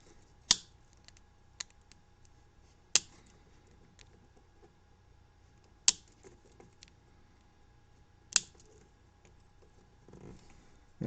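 Wire ends on a rebuilt electrical connector being trimmed with cutters, four sharp distinct snips spaced a few seconds apart, close and crisp over a quiet background, with faint small handling clicks between.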